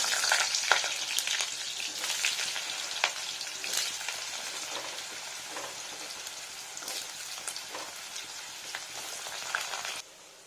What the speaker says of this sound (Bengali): কয়েকটা আলু ভেজে নেবো